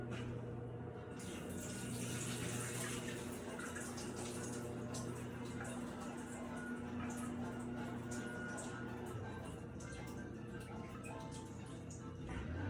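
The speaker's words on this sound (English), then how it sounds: "So basically, you're draining off that stanky ass bean water" Soaked beans being drained of their water in a kitchen, with a steady, close pouring and splashing rush of liquid that runs continuously and evenly throughout.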